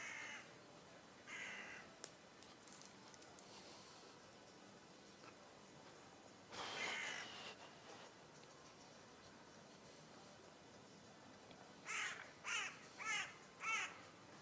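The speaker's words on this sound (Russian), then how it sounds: "Вороны шквакают." Crows cawing outdoors near a seaside promenade in Crimea, a few short calls early on, a louder cluster around the middle and a rapid series of four caws at the end, moderately distant over faint ambient noise.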